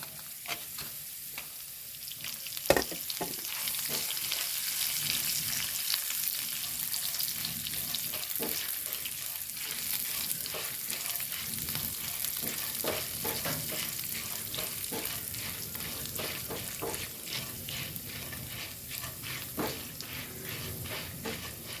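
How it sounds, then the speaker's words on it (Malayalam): Dried red chillies fry in hot oil for a brinjal dish, with a continuous loud sizzle and repeated scraping stirs and clinks of a spoon against the pan, and no one speaking. "ഇനി വറ്റൽമുളക് ഇട്ട് കൊടുക്കാം കേട്ടോ"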